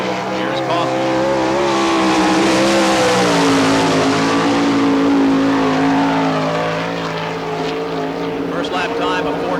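A winged sprint car racing at full throttle on the dirt track at Barberville, Florida, during the All Star Circuit of Champions Speedweek, a loud sustained engine roar whose pitch rises and falls as it passes through the turns.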